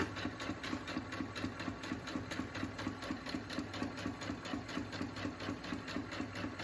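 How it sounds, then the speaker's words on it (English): A sewing machine stitches a seam in a fabric face mask, its needle chattering in a fast, even rhythm with a low motor hum underneath, moderately quiet and continuous with no talking. "So I'm sewing along that with the right sides together."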